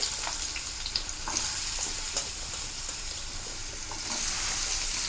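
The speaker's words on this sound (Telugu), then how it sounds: "ముల్లంగి కొంచెం పచ్చి వాసన పోయేదాకా బాగా వేపుకోవాలండి" Grated radish fries in a pan for a radish chutney, giving a continuous close sizzle with faint stirring scrapes throughout.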